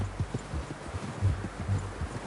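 Horse hooves clip-clop in the Red Dead Redemption II video game, a soft, uneven beat of steps over low outdoor rustle with no talk.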